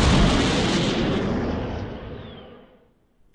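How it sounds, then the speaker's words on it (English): In a video game, a rocket-powered aircraft ejection seat fires with a loud, broad roaring blast that decays over about three seconds into silence. "his accidental activation of the aircraft's rocket-powered ejection seat"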